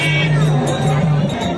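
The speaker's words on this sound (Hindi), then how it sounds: "भीड़ तो है" Crowd of devotees at Chhind Dham temple in Bareli, a steady murmur of many voices close around, with a droning tone underneath.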